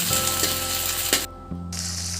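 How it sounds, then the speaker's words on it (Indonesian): Green bird's eye chilies, garlic and shrimp paste fry in a pan with a steady broadband sizzle, close and fairly loud, briefly dropping out for a moment before the hiss resumes. "Sebelumnya, ini semua bahannya kita goreng terlebih dahulu."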